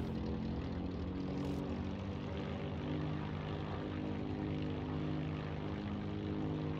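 Propeller engine of a Curtiss O-52 Owl plane in Heroes & Generals drones loud and steady, a continuous close roar with no break.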